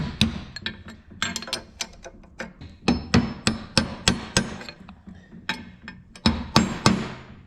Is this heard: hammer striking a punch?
yes